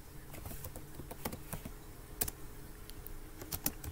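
Someone types on a computer keyboard nearby, tapping out quick irregular keystrokes that are soft and slightly uneven, with no talking.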